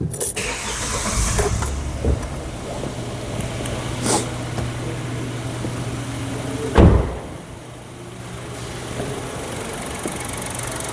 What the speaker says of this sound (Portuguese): E agora eu vou dar partida no carro.